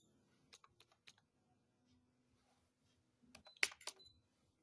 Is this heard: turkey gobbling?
no